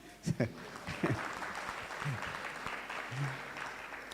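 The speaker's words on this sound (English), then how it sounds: "you can offer him a big round of applause as well" Devotees applaud steadily at an ISKCON temple festival in Phoenix for Balaram Appearance Day, a dense wash of clapping with voices talking and calling out over it.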